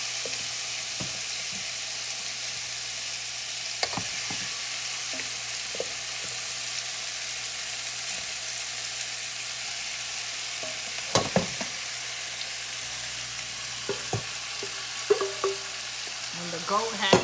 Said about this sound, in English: That's what you should hear when you put the goat in there. It should be sizzling.